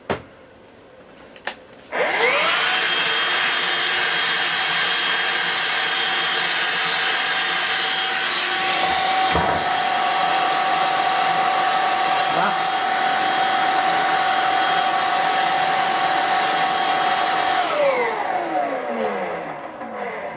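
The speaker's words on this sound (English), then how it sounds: "I haven't got the big vacuum in, so I'll have to just use the small one." A small vacuum cleaner, used while repairing a Dyson DC03, whines steadily for about fifteen seconds after switching on, close and loud, then winds down at the end; no talking over it.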